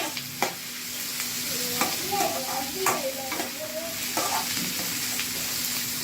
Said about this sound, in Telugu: విత్తనాలు రిమూవ్ చేసుకొని టమోటా యాడ్ చేస్తాను